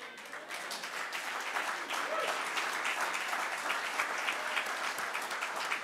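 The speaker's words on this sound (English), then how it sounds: "Cheer for Frank, everybody." A story-slam audience applauds and cheers for the next storyteller, a dense, lively wash of clapping with scattered voices rising within it, steady and fairly close throughout.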